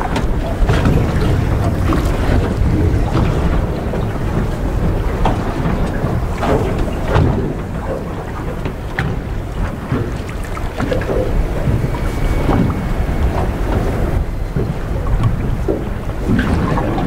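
Strong wind of 35 to 45 km/h roars and buffets the microphone continuously on a Norwegian island coast, with rushing gusts over a steady loud background of open sea.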